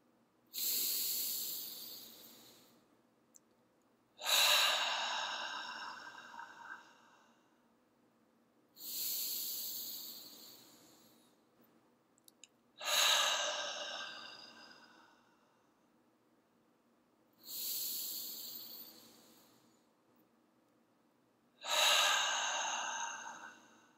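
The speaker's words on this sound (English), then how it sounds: "So let's take 3 breaths together." A group of people breathe together in three slow, deep breaths, each a long airy inhale followed by a sighing exhale, evenly spaced with quiet pauses between and no talking.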